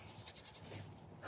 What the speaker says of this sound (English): Y'all can hear my goats in the background.